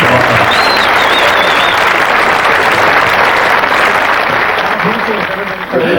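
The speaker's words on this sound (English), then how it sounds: "I think everyone on this panel deserves a really big round of applause" A crowd at a 1989 heavy metal forum applauds a panel, loud continuous clapping with some cheering and voices mixed in, easing slightly toward the end.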